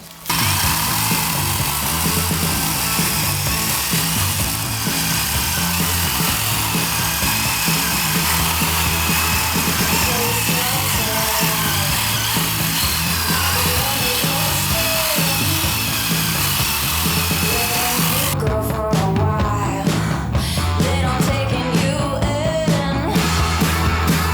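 A YamaMoto cordless saw runs continuously, loud and steady, cutting through wood with a grinding buzz; after about 20 cuts toward the end the cutting turns rougher and more broken as protection starts kicking in.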